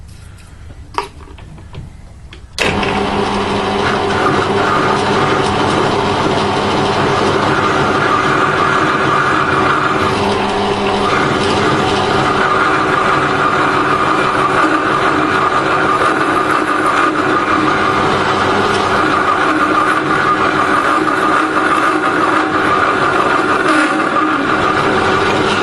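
Wood lathe spinning at about 160 RPM while a ball is turned, a loud, steady whirring drone that starts abruptly after a few quiet seconds and runs on continuously, with no talk.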